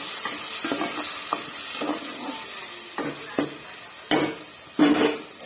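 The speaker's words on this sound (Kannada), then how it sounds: "ಅದು ಹಸಿ ವಾಸನೆ ಎಲ್ಲ ಹೋಗೋವರೆಗೂ ಸ್ವಲ್ಪ ಚೆನ್ನಾಗಿ ಫ್ರೈ ಮಾಡ್ಕೊಳ್ಳೋಣ ಮಸಾಲೆದು." Masala paste for mushroom biryani frying in a pan, with a soft steady sizzle broken by a series of scraping stirs that grow louder and more distinct toward the end, close by and with no talking.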